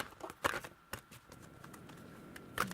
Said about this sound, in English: Shuffling them up.